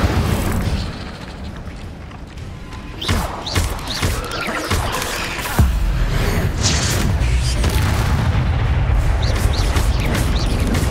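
In Hogwarts Legacy, the Incendio fire spell is cast, bursting out as booming, crashing blasts over a continuous rumbling game soundscape, with several heavy whooshing impacts spread across the stretch.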